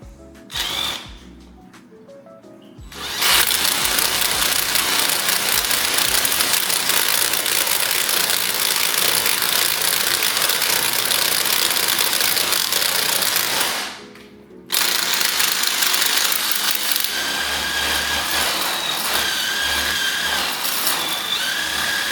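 A drill with a paddle bit bores into bald cypress wood in a loud, steady grinding whine after a short quiet start, pauses briefly, then resumes drilling continuously.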